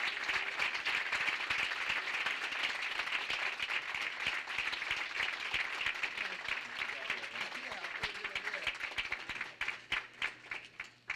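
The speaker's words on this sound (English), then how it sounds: "I would like for you to greet him with a rousing round of applause" A school-event audience gives a rousing round of applause to Dr. James Thompson, Jr., a superintendent of the year, with dense steady clapping that fills the room for about ten seconds before thinning out and fading.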